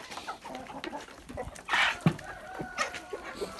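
Young hens of the Livenska calico, Amrox and white Leghorn breeds cluck softly in a farmyard, with a louder squawk partway through and scattered calls throughout.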